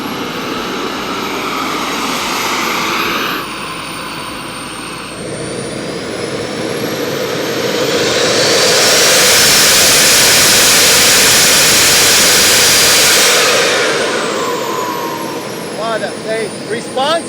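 Twin-turbine RC jet fitted with Xicoy 180 engines flying overhead, a loud sustained turbine roar and whine that builds to a peak mid-pass and then fades as it moves away.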